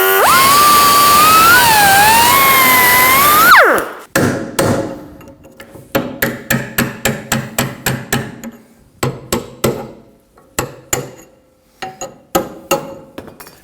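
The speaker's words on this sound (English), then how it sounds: "I'm just going to put a cut with a cut-off wheel through it and then hit it with a punch." A cut-off wheel shrieks steadily through a steel wheel hub collar on a 2003-2006 Subaru Baja, then stops, followed by a long run of sharp, ringing metallic hammer blows on a punch, fast at first and then spaced out.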